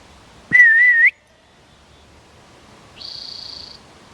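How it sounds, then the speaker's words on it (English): A single loud, wavering human whistle calling farm animals to feed rings out nearby, followed after a pause by a fainter, steady higher whistle. "They know that whistle means something good."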